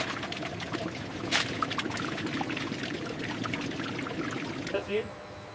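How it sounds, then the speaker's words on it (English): Fresh grape juice flowing from crushed grapes out of a crusher-destemmer, a continuous splashing pour with scattered clatter, fairly close, under a voice talking over it. "Fresh grape juice flowing from crushed grapes."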